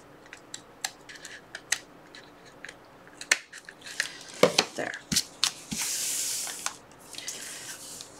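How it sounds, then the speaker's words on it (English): Scissors trimming paper for a handmade envelope journal, a series of close, crisp snips spaced irregularly, with a rustle of paper being handled toward the end. "I see a little bit more I want to trim off."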